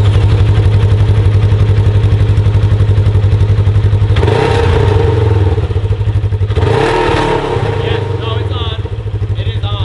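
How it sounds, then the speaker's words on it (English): A heavy engine idles with a steady low rumble, then revs up sharply twice, the roar rising and falling, with some talking over it. "gonna do some revving right here"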